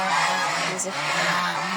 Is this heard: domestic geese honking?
yes